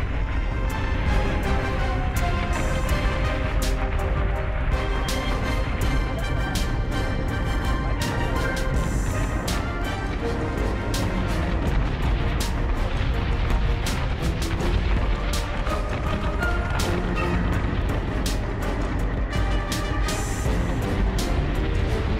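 Missile salvos exploding in a space battle video game, dense and loud with repeated booming blasts layered over a continuous rumble.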